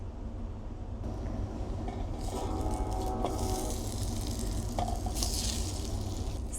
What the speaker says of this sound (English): So right now I'm just adding butter to the pan, and we are going to fry these up